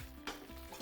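Wheat flour sheera being stirred in ghee in a pan, a brief soft scrape and sizzle with a couple of faint stirring strokes, quiet and alone.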